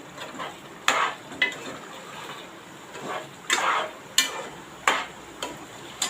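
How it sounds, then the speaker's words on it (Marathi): Prawns sautéing in a pan for a spicy prawn biryani, giving a steady soft sizzle with several sharp scraping strokes of a spatula spaced through the clip, close and moderately loud, with no talking. "कोलंबी आपण घातले चांगली परतून घेऊया"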